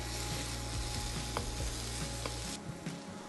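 Kimchi frying in a pan, cooking down until its moisture is gone, makes a steady close sizzle. A few stirring scrapes sit over it, and the sound drops a little toward the end.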